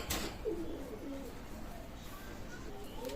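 Oman bloodline Teddy pigeons coo softly at close range, low throaty calls repeating irregularly over a steady background murmur, with a brief sharp flutter or knock at the start.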